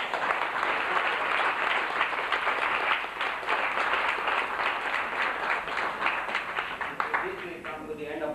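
Sustained applause from an academic symposium audience honoring a speaker, dense and steady throughout, with a few louder claps near the end and no speech over it.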